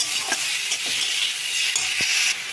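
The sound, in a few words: frying cumin and ginger spice paste in a pan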